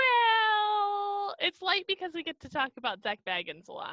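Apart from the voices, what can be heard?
cat meowing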